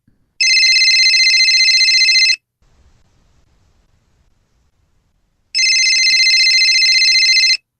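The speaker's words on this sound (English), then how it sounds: "He's not answering this phone." A telephone rings twice in long electronic bursts, each lasting about two seconds, loud and close, with a quiet gap between the rings.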